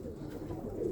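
South African roller pigeons coo in a low, steady murmur, close and continuous throughout with no talking.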